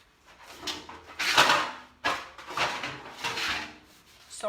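Rough rubbing and scrubbing on a surface in several strokes, close and moderately loud, with brief pauses between passes.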